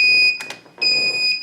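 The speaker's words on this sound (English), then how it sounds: "we lose that nasty beeping sound" A Taranis radio transmitter gives a switch warning as steady high-pitched electronic beeps in two long pulses, close and clear, with faint clicks and handling noise between them.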